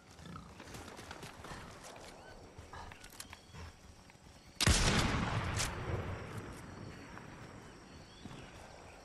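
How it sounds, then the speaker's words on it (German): Gunfire in the video game Fortnite, heard as a sudden loud burst of shots that then settles into a sustained noisy stretch of firing and game noise, with no talk over it. "Hinter uns wird trotzdem noch geschossen."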